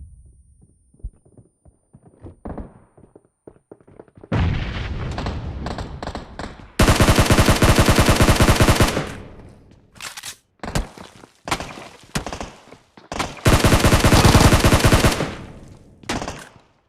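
Gunfire in a shooter video game fight comes in sharp, loud automatic bursts separated by pauses, with fainter single shots and footsteps in the quieter opening.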